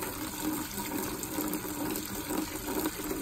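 Rainwater pours steadily into a bucket in a backyard, a full continuous gushing and splashing close by with no voices.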